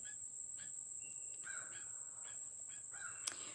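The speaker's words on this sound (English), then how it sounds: "These birds, I don't know what these birds are doing." Crows cawing in the distance, several short repeated calls spaced across the moment, faint against a steady high insect drone and quiet background.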